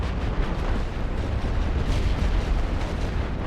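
Continuous rumbling artillery barrage in a World War I trench warfare strategy game set on the Western Front, a dense, loud wall of overlapping explosions and booms with no pauses.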